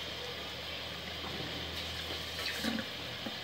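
Water pours steadily into a cooking pot measured out for rice, a continuous close splashing rush with no voices over it.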